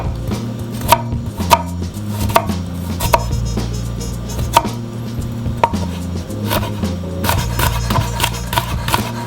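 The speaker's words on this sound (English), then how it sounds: "This is pretty big, so I'm gonna cut it in like" Knife chopping a large tomato into tiny pieces on a board, steady sharp taps at an irregular quick pace, close up, with a low background hum and no talking.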